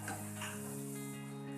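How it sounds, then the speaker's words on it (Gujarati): Green chana pakoras fry in oil over a low gas flame, giving a steady soft sizzle with faint stirring and a low background hum, quiet and close throughout. "પકોડાને આપણે એકદમ સ્લો ગેસ પર તળીને તૈયાર કરીશું"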